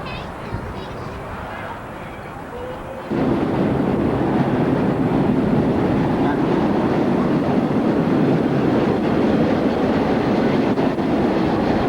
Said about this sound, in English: there's a train coming in from Needham Heights every 45 minutes, 7 days a week.